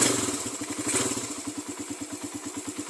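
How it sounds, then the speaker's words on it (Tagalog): A motorcycle engine is revved hard, then settles into a rapid, even chugging pulse near the microphone, with no voices. "So i-revolution natin tong gasolinador mga master, isagad natin."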